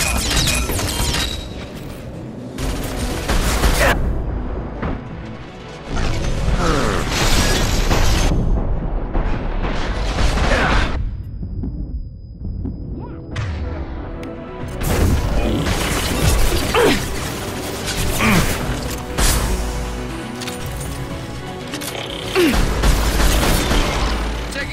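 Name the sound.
gunfire and explosions in combat in the video game Mass Effect 2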